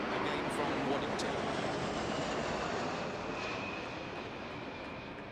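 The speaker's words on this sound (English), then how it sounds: "we're looking at the RC-135 rivet joint, another one of the Royal Air Force's I-Star aircraft" A Royal Air Force RC-135 Rivet Joint reconnaissance jet flies over London in an RAF 100 flypast, its engines making a broad continuous roar that holds steady and fades slightly, with a commentator talking over it.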